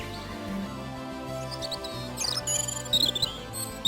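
A European robin sings thin, high, sweet warbling phrases over a low background hum, the notes faint at first and then brighter and clearer toward the end.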